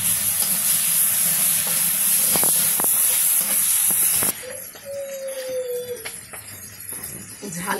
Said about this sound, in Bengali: ঢেঁড়স ভাজি রান্না করবো।